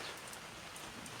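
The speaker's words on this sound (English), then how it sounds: "Here comes the rain again." Steady rain falling outdoors in high hill country, a continuous soft hiss of drops on surfaces with no voices, fairly quiet and even throughout.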